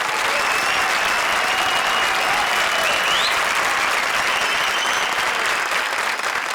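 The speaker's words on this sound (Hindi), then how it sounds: "हमारी चारों शायराना जोड़ियों के लिए एक बार जोरदार तालियां।" Loud, dense studio audience applause on a comedy show as four poetry duos come on stage, continuous clapping with faint tones and cheers mixed in.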